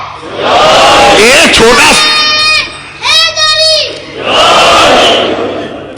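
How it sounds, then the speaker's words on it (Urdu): Children in a crowd at a religious majlis gathering chant slogans loudly in two rousing bursts, separated by a short stretch of someone speaking. "یہ بچے نعرے لگانے والے"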